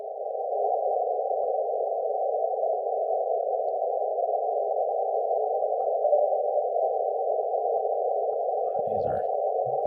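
A steady continuous tone of a CW amateur-radio signal fills the span loudly on the 15-metre band, with brief crackles and low rumbles breaking in near the end.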